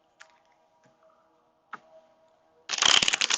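Tarot cards being shuffled by hand: a few scattered light taps and clicks, then a dense, crisp riffle of cards near the end, close and fairly loud.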